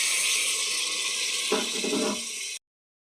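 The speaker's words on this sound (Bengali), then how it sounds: "এবার দিয়ে দেবো 1 গ্লাস জল" A glass of water poured into a hot pan of frying pumpkin greens: a constant loud hiss with a short splashing gush of liquid partway through, then an abrupt cutoff.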